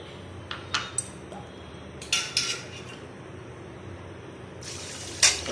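Water is poured into a metal pot while preparing Odia pakhala rice, with scattered clanks and clinks of the pot and utensils and a brief rush of splashing near the end.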